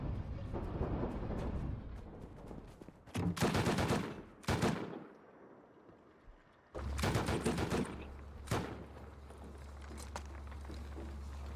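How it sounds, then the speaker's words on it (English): Gunfire rings out while shooting animals in the survival game Rust, with loud bursts of rapid shots, a couple of sharp single cracks and a low rumble between volleys, with no talking. "I'm just shooting animals right now."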